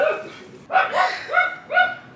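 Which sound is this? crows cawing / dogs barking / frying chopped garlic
dogs barking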